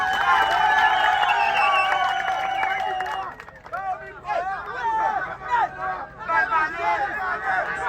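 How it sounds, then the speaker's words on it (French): Crowd at a community sports championship in a park applauds and cheers a family team being honoured, loud and dense at first, then thinning into scattered clapping and mixed crowd voices. "Des applaudissements s'il vous plaît"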